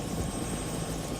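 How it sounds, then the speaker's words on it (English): Steady, loud, continuous rotor and engine roar of a nearby helicopter, an unbroken wash of noise with no talk over it. "can you get in the helicopter and get into the air and sort of hover?"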